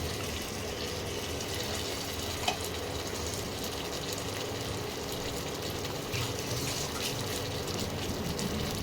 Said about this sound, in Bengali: এবারে যে বাটিতে মশলাগুলো রেখেছিলাম সেই বাটি ধোয়া জলটা আস্তে করে দিয়ে দিলাম।